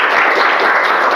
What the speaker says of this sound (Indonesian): tepuk tangan dulu untuk kelompok 1 ya.